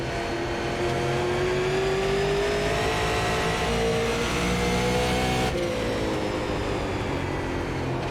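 A super late model race car engine in iRacing, racing at Nashville Fairgrounds Speedway, drones steadily and loudly with a rising and falling whine, dipping briefly before climbing again.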